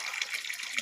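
Water from the mountain streaming steadily past in an outdoor setting, a continuous bright hiss of flowing water heard close, with a voice speaking faintly underneath.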